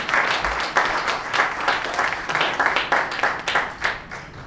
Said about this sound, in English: A round of applause for Randy.